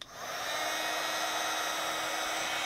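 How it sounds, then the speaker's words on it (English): A crafting heat tool blows hot air at a card with white pigment ink, a steady loud whooshing hiss that ramps up at the start and holds constant, close by with no talking. "Now I'm heating up my heat tool, and then I'm going to melt this."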